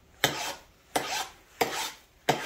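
A hand file rasping across a metal handbrake plate from a BMW E46, four distinct strokes at a steady rhythm, close and crisp, with quiet gaps between and no talking.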